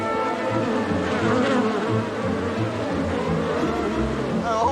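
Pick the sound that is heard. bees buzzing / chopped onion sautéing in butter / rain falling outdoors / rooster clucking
bees buzzing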